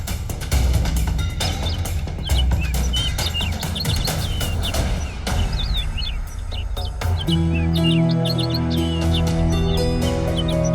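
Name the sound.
bird chirping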